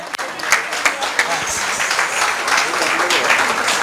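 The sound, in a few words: loud audience applause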